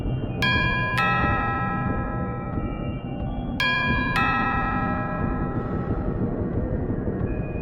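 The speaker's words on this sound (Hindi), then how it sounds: "और साथ ही कानों में डोरबेल की आवाज़।" A doorbell rings with two ding-dong chimes in quick succession, then repeats the same pair a few seconds later, bright and clear over a low, murky background rumble in a horror story.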